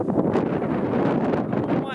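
Steady wind buffets the microphone outdoors with a constant low roar and rumble, loud and unbroken throughout.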